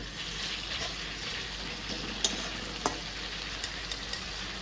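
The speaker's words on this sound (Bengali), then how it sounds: "তো ওর জন্য রান্না করছি আজকে আলু ঝিঙে দিয়ে শিং মাছের ঝোল" Singi fish curry with potato and ridge gourd sizzling and frying in a pan, a steady close hiss with a few sharp spatters and stirring scrapes, no talking.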